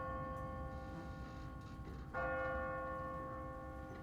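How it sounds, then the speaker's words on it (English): A church bell tolls in The Walking Dead: The Telltale Series game, its sustained ringing hum swelling with a fresh, louder strike partway through and decaying slowly, with no talking. "What kind of church bell goes off at 20 past the hour?"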